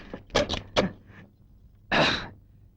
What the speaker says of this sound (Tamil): கதவை தாழ் போடு.